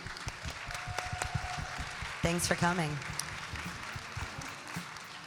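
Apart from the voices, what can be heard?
applause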